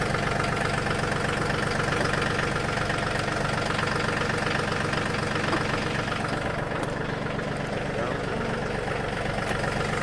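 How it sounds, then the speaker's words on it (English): Tractor engine idling just after the key is turned, a steady close mechanical rumble with a knocking pulse that runs evenly for the whole stretch while someone talks over it. "start the ignition with the key. So the tractor is now in the on position."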